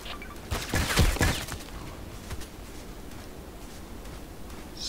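Enemy gunfire in the online shooter Contract Wars, a loud burst of rapid close shots in the first second or so, followed by a few scattered fainter shots and rustling movement.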